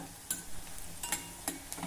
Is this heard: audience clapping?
no